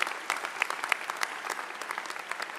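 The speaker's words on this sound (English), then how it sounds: "Let's give them another round of applause for their leadership here" Applause from a ceremony audience at a pharmacy doctoral hooding commencement, honoring the university president and provost; crisp individual claps stand out within a moderate, steady round of clapping.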